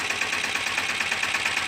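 A tractor engine runs steadily at idle, a continuous mid-pitched drone with a faint rhythmic knock, close by and alone.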